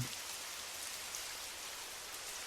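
Steady rain falls on a Paris evening along a narrow side street, a constant, even hiss of drops with no voices or other sounds.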